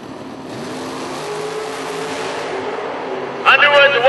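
Drag racing cars, including a Camaro, launching side by side down the strip at a winter nationals event, a broad engine roar building steadily over several seconds with a commentator talking over it.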